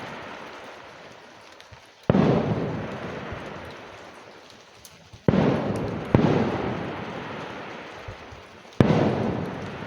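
Fireworks bursting in the distance during a rainy woodland camping night, several sharp booming onsets each followed by a long rumbling, crackling decay, heard alone over steady background hiss.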